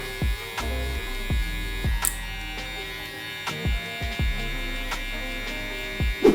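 Electric hair clippers with a 1.5 guard run with a steady buzzing hum during a low taper haircut. Short, repeated thumps and taps break in at irregular intervals as the clippers work through the hair.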